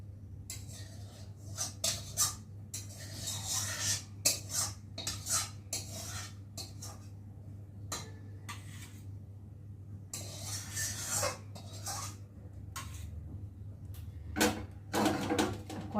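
Curry is poured out of a metal wok, with irregular clinks and scrapes of a ladle against the pan over a low steady hum, fairly quiet and close, no speech.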